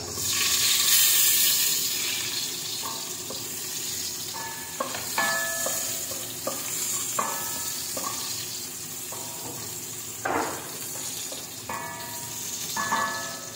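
Ginger and onion sauté in a hot pan for chicken adobo, giving a continuous close sizzle with scattered clinks and scrapes of stirring throughout.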